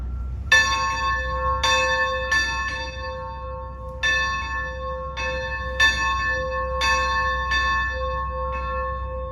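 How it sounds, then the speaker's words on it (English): A bell on a restored UP060 switcher locomotive rings at a train show, giving about ten clear, resonant metallic strikes at an uneven slow rhythm, each tone ringing on over a low background hum. "It has a bell now."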